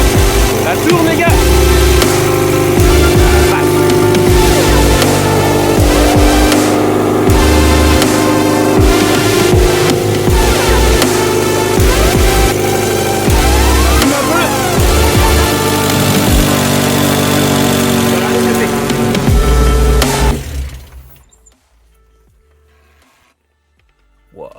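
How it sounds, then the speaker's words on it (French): A decatted car engine without a catalytic converter runs loud and steady for about twenty seconds, then cuts off abruptly into near silence; no talking is heard over it. "Alors attention, sachant qu'elle est décatalysée, ça va faire un bruit monstre."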